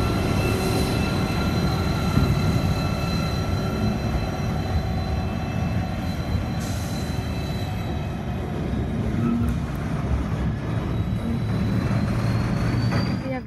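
Diesel locomotives haul a passing train past a platform, a loud, continuous rumble of engines and rolling wagons with faint squealing tones from the wheels throughout.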